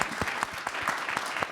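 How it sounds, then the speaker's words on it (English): An audience at a panel discussion claps steadily, a dense patter of many hands, fairly close and continuous without voices over it. "Round of applause,"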